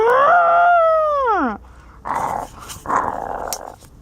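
A Therizinosaurus roar, a loud, drawn-out howling bellow that bends downward, followed by two shorter, rougher growling bursts, all close and alone without talk.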